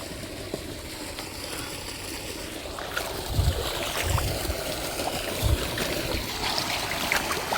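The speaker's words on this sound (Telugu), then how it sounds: "బాగా వస్తున్నాయి నీళ్ళు" Irrigation water flows steadily through an organic tomato field planted with young seedlings, a continuous rushing trickle close by with a few louder gurgling surges and no talking.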